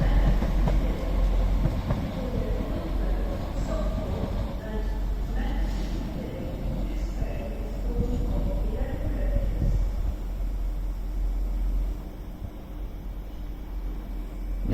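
The 0812 Avanti West Coast service from London Euston to Manchester Piccadilly runs through Crewe on the West Coast Main Line, a continuous rumbling rush of wheels and carriages with faint clicks and a voice talking over it.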